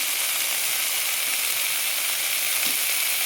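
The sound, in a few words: paneer frying in pan with turmeric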